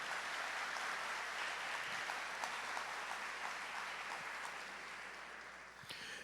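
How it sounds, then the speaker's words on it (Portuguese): A Catholic church congregation claps together in a dense, sustained wash of applause that fills the room, steady and fairly even before tapering off slightly toward the end. "vamos aplaudir essa palavra maravilhosa"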